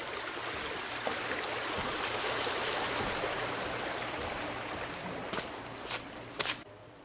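Water from the Mississippi River headwaters at Lake Itasca, Minnesota, flows steadily as a close, continuous stream with a broad rushing hiss. A few brief splashes stand out near the end.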